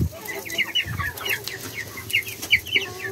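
Several chickens cluck and chirp close by on a rooftop, a busy, uneven run of short calls with no voices.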